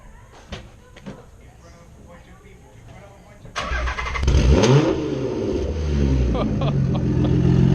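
A Nissan Fairlady Z fitted with an R35 GTR exhaust cranks and fires up after a few faint clicks, then settles into a loud, deep rumbling idle with a brief rev, close by.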